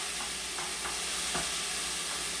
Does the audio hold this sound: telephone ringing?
no